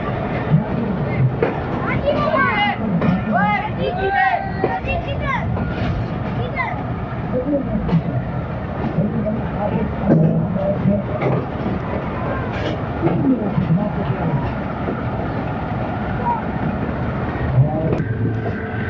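The Khushhal Khan Khattak Express rumbles past on the ML2 line toward Attock, a steady low rolling rumble with faint rhythmic clatter, heard under onlookers' chatter and voices nearby throughout.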